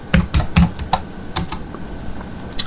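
Someone types a password on a computer keyboard: a few quick, close key clicks up front, then sparser taps trailing off into a quiet room, with one last pair near the end and no talking.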